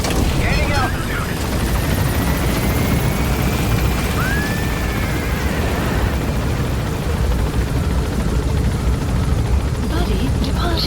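A helicopter in Metal Gear Solid 5: The Phantom Pain lifts off and departs, its rotor and engine a loud, unbroken roar throughout, with voices faintly present beneath it.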